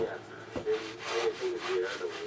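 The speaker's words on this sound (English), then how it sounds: "What I'm using is just basically a disc sander." A disc sander fitted with heavy grit grinds a cured epoxy piece, giving a close, steady rubbing rasp over a low motor hum, with the pressure swelling and easing.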